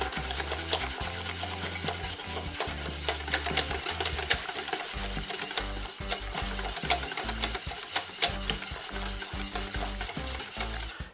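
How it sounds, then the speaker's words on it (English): Jamaican peanut porridge being whisked in a pot, a steady close rubbing and scraping rasp that runs continuously, with rhythmic strokes over a low background hum. "And use a whisk and whisk it like this."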